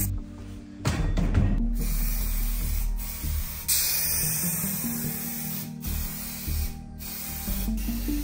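Spray gun applying an initial primer coat to disassembled machine parts, a close steady hiss running almost continuously with short breaks and a few faint mechanical clicks.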